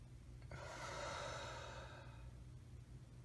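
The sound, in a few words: person breathing in and out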